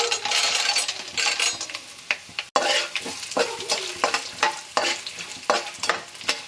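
Garlic and dried red chilies fry in hot oil with mustard seeds and curry leaves for a South Indian puffed rice fry. Loud, steady sizzling is broken by repeated scraping and clinking stirring strokes in the pan, with one brief gap partway through.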